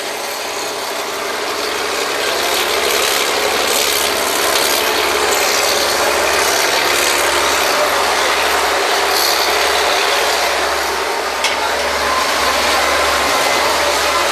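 An oil drilling rig's engine and drawworks run loudly and steadily, a dense mechanical roar with grinding, ratcheting texture and a low hum throughout, no voices.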